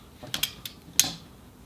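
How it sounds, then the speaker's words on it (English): Screws are loosened and removed from an extension cord plug, giving a few quick, faint metallic clicks and ratcheting ticks close by, ending in one sharper click. "So we're loosening up these screws here,"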